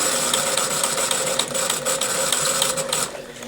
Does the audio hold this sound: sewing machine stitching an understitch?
yes